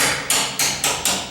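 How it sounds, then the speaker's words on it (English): A rubber hammer taps a loose door hinge screw four times in a quick, even series of sharp, loud knocks, each ringing briefly before the next, with no talk. "I'm going to tap these"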